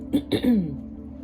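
A person recovering from a cold clears their throat twice in quick, rough bursts, close to the microphone, followed by a short voiced hum.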